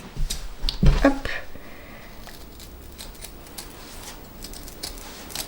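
Scissors cut small rounded fabric pieces for a shoulder bag. A few sharp close snips come near the start, followed by faint rustling and light handling noises.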